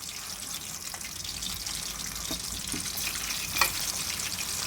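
Chicken kofta fry and roast in a pan with a steady, soft sizzle, broken by a few light clicks and scrapes as the pieces are turned.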